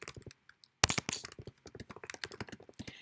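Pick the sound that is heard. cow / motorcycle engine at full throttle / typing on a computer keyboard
typing on a computer keyboard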